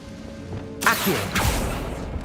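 In the video game Hogwarts Legacy, an Accio summoning spell goes off as a sudden whooshing burst with a brief swept tone, followed by a second softer surge over faint background game ambience.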